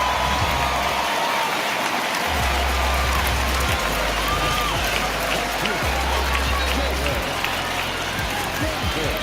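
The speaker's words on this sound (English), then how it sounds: "the rain starting to intensify here. It's coming down a little heavier now" Heavy rain pouring down over a baseball stadium in MLB The Show, a constant loud hiss of falling rain with a low crowd rumble, a voice talking over it.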